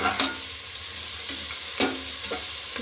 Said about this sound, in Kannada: ಫ್ಲೇಮು ಜೋರಲ್ಲೇ ಇರಲಿ, ಅದರೆಲ್ಲ ಫ್ರೈ ಮಾಡ್ಕೋಬೇಕು.